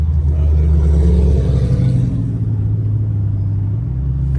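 Deep rumbling engine of a Dodge muscle car, a Challenger 392 or Demon 170 Charger, close and loud, with a low throbbing idle that shifts pitch slightly midway, no talk.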